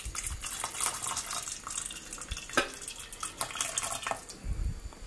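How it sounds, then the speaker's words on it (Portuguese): Hot water poured into a baking pan for a custard pudding: an uneven splashing, trickling pour with bright spatters, close and fairly quiet, with no talk. "Vou colocar aqui água quente, uns dois dedinhos mais ou menos."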